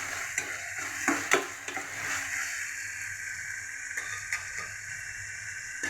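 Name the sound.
eggplant added to a pan and frying with tomatoes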